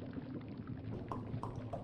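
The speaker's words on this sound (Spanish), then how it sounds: "Es un grifo para vaciar el contenido de la olla en un recipiente." Liquid pours from the tap of a large pot simmering over a low fire in the video game The Longest Journey, heard as a quiet, steady trickle and gurgle against a soft background hum.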